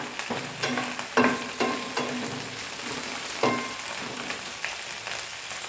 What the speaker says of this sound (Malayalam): ഹൈ ഫ്ലെയിമിൽ ഒരു അഞ്ച് മിനിറ്റ് കിടന്നപ്പോൾ നല്ല മൂത്തിട്ടുണ്ട്